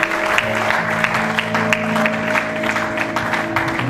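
A church congregation breaks into steady, dense applause for the Lord, with sustained organ or keyboard tones running underneath the clapping.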